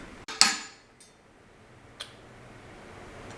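A hammer strikes a chisel against the pinion support of a Ford 8-inch rear axle from a 1971 Maverick: one sharp metallic hit, then two fainter taps, close and alone in a quiet shop.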